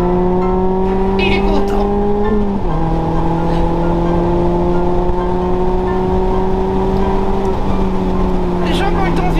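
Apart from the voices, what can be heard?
Mazda MX-5 ND naturally aspirated engine revving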